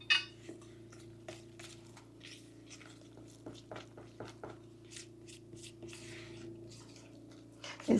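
A wooden spoon stirs butterscotch pie filling in a bowl, producing soft irregular taps, scrapes and wet squishes, fairly quiet, with a louder knock at the start and end.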